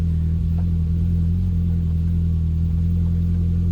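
A car engine runs steadily nearby during a brake pad and rotor change, a loud, constant low hum and drone throughout.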